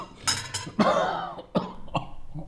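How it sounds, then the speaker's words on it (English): A man coughs at a dinner table in a short, harsh burst of several coughs of uneven spacing. The coughing is loud and close, with faint table sounds under it. "We started to eat and then Dad started to cough."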